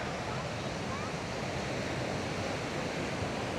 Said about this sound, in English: It's very windy though, very windy.